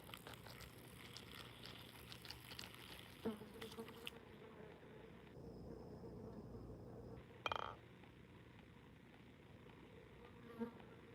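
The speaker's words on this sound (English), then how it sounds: "these mosquitoes are bad" Steady mosquito buzzing hovers close by throughout, with a few soft knocks and taps scattered over the drone.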